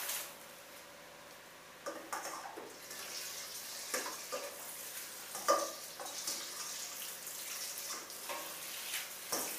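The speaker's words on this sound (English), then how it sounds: "And pour the hot water out." Hot water pours out from steamed vegetables with a soft, intermittent splashing and trickling that swells in bursts, fairly faint and close, with no talk.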